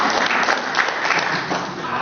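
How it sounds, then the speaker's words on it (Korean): Lecture audience applauding during a talk on 21st-century leadership: dense, continuous clapping from a crowd, loud and close, with no voices standing out. "박수 한번 주십시오"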